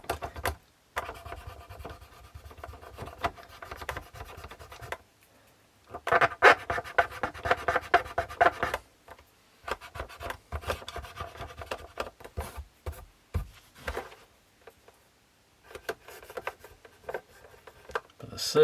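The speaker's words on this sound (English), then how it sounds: "Starting to polish up a bit better." Cloth rubbing over the aluminium front panel of a Copal RD316 electronic clock radio during hand polishing, close and fairly quiet, coming in repeated raspy bursts of strokes separated by short pauses.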